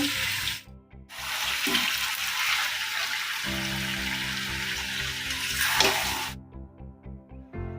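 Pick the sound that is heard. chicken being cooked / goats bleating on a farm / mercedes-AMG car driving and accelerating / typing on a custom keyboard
chicken being cooked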